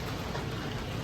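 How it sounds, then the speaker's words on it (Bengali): Rain falls steadily outside, heard from indoors as a dense, even hiss of drops with no break, moderately loud and with no talking. "কত বৃষ্টি হচ্ছে মনে হচ্ছে, এখান থেকে আওয়াজ পাওয়া যাচ্ছে"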